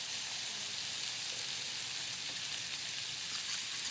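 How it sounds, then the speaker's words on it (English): A cup of warm milk goes into a hot pan of cooked butter-and-flour roux, giving an even, faint, steady sizzle. The bubbling hiss continues for several seconds with no talk. "Into my pan goes 1 cup of warm milk"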